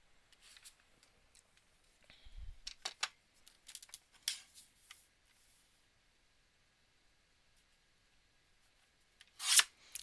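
Scissors cutting paper card while making a pumpkin greeting card, a series of short crisp snips and rustles, close and quiet, with a sharper burst of handling near the end.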